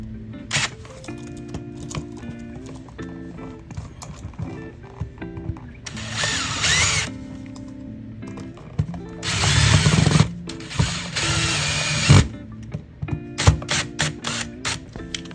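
A power drill with a Phillips bit drives screws into an electrical outlet, several short whirring bursts separated by pauses, close and fairly loud, with handling clatter between runs.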